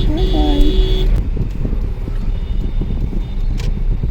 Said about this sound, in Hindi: ट्रैफिक हो गया है, ट्रैफिक खुल गया, खुल गया, अब हम जा रहे हैं